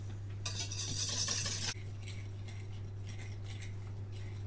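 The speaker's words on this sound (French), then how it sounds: "je vais battre les blancs en neige" Egg whites are beaten by hand in a bowl for a salmon and herb cream cheese roll, giving a brief burst of quick, close whisk-on-bowl scraping and clinking, followed by softer intermittent tapping over a steady low hum.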